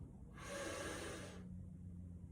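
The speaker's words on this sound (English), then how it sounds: "is to work on our breathing through our nose" A single long, steady inhalation drawn in through the nose as part of a box-breathing exercise, lasting about a second, close and soft with no speech.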